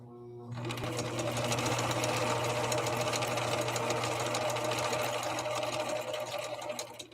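Viking Husqvarna Model 6430 sewing machine sewing a first stitch, a steady close mechanical whir running continuously for several seconds before slowing at the end.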